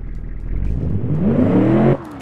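A V8 pickup truck engine in the game Automation, with tweaked exhaust and cam profile, revs up loudly and close, pitch climbing smoothly for over a second before cutting off abruptly.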